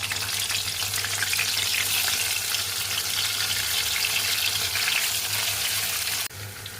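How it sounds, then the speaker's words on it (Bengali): Fish pieces fry in hot oil in a wok with cumin seeds and green chillies, giving a loud, continuous sizzle that cuts off abruptly at the end. "মাছগুলো এবার দিয়ে দিচ্ছি আমি।"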